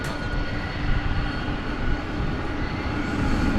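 An airliner leaving DFW Airport for Las Vegas at night, with a loud, steady engine roar and broadband rumble that holds near full strength throughout, with no talking.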